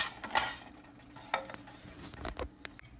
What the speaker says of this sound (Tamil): அடுத்து ஜீரகத்தையும் வெந்தயத்தையும் நம்ம வறுத்துக்கலாம்